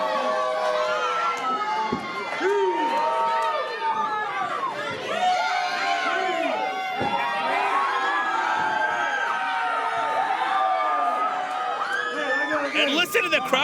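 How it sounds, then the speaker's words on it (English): Dense crowd cheering and shouting at an independent wrestling show in an Elks Lodge hall, with children yelling, whoops and chatter rising steadily in a loud, continuous roar that swells near the end. "listen to the crowd go crazy for Johnny Pierce"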